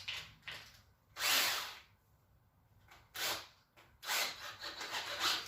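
A power drill, used with a headlight restoration kit, whirs in three bursts, each spinning up for about a second with quiet pauses between, the last burst longer and uneven.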